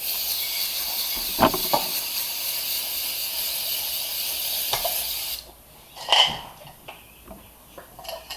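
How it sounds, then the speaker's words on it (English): A steady hissing spray of cleaner over the parts of a disassembled Kimber Custom Compact pistol runs for about five seconds, then cuts off, followed by a few soft clicks and handling sounds of small metal parts. "And just spray it all down."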